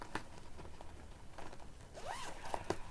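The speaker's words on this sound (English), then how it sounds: "as we open up the zipper here" A zipper on a drone case is pulled open close up in a quiet room. It makes a steady run of scratchy zipping with a few louder clicks and rasps near the end, and nobody speaks.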